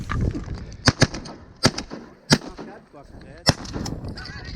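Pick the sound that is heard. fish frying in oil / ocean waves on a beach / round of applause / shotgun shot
shotgun shot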